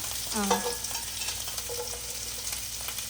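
Onions frying in a pan for corn fried rice, a steady hiss of sizzling oil broken by the scrape and clatter of a spoon stirring, close and continuous.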